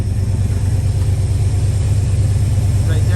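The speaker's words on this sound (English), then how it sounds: "Listen to it, friends. Listen to the truck." An old truck's engine idles with crushed mufflers, a steady loud low rumble that carries throughout without any letup.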